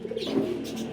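A French breed pigeon cooing softly and continuously at close range, with no voices.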